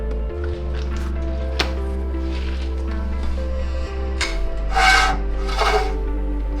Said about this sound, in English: There's a brake disc shield behind it, and it is rubbing on the rotor when it turns.